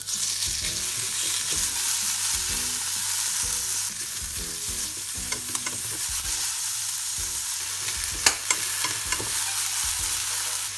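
Meat frying with carrots and onion in a pan for Japanese omurice, a continuous close sizzle with repeated scraping strokes of a spatula and occasional knocks, steady and fairly loud with no voices.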